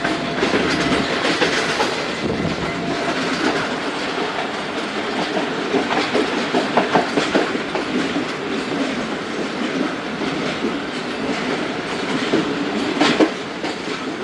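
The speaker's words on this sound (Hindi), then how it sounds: "गोजरा रेलवे स्टेशन अप्रोच कर रही है ट्रेन हमारी" The Karakoram Express passenger train rumbles steadily up close approaching Gojra station, with rhythmic wheel clatter on the rails and occasional clunks. The noise is continuous and fairly loud, with no talking.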